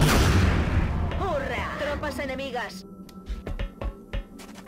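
A long-range headshot in XCOM Enemy Within fires as a heavy, booming shot that rolls out into a drawn-out electronic warble. Sharp digital clicks and game effects follow, and someone talks over much of it.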